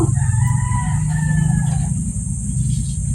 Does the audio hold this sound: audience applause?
no